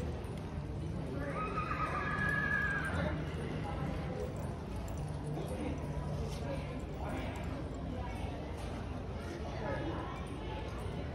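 A horse whinnies loudly at a ranch cutting show during a green horse non-pro class, a clear rising and falling neigh near the start over steady arena noise, hoofbeats and a talking announcer.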